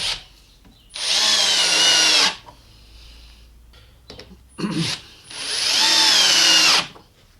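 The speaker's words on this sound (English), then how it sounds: "all I'm going to do is put some screws in there" A power drill drives screws into a wooden guitar neck angle jig, with two loud sustained whirring runs about a second long each, separated by quiet pauses and a brief handling noise.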